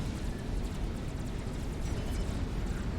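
Massive cannon artillery barrages in the Supreme Commander strategy game, a dense continuous low rumble of distant booms rolling together without pause.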